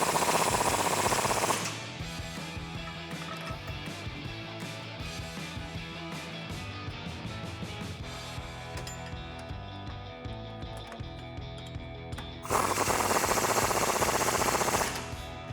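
Impact wrench with a 21mm socket driving shock bolts on a 2007-2018 Silverado or Sierra, a loud rapid hammering burst at the start, a long stretch of lighter ratcheting clatter, then another loud burst near the end.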